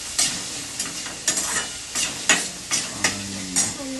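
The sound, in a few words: onions being sautéed and stirred in pan for kande pohe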